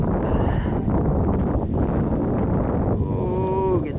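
Strong, cold wind roars steadily against the microphone at a Korean palace, a dense continuous rumble throughout, with a brief tonal whine near the end.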